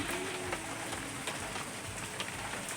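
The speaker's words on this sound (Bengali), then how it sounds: "এই যে বৃষ্টি পড়ছে" Rain pattering steadily onto a tarpaulin shelter at a village home in the evening, a dense, even patter with scattered louder drops, fairly close and with no talk over it.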